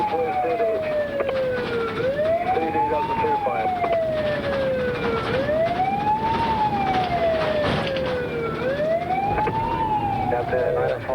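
A wailing ambulance siren on the way to a call rises and falls in steady repeated sweeps, loud and continuous throughout over road and engine noise.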